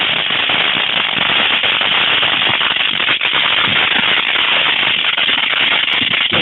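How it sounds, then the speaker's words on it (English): Fourth of July fireworks at night produce a dense, continuous barrage of crackling pops and bangs, loud and unbroken for the whole stretch, with no speech. "you got fireworks off over in this distance here"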